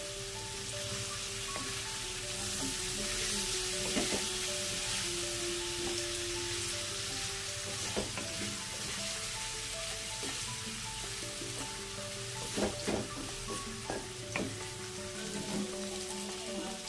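Paneer fries in oil in a pan with a steady, crackling sizzle and scattered pops, a few louder spatters near the end, close and continuous without speech.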